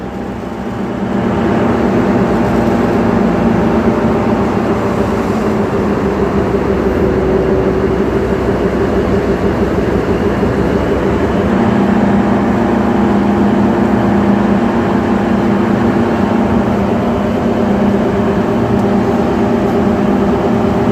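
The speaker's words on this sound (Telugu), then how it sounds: "ఇంజన్ సౌండ్ అయితే వినండి ఎలా ఉంటుందో" A loud, steady rumble of a Secunderabad–Siddipet train's engine running, with a deep droning hum and mechanical whine that continues without a break throughout.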